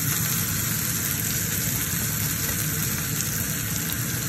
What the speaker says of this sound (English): Now you can cook your burger how you like it